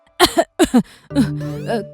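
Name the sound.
cough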